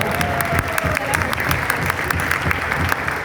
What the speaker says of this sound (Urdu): آپ کی پرزور تالیوں میں جناب یاسر پیر زادہ